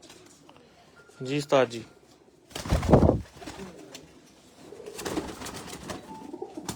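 Lakha pigeon cooing in a short rolling burst between stretches of men's conversation, close and moderately loud, with voices and background bustle around it.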